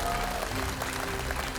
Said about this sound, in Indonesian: boleh kita beri tepuk tangan yang meriah dulu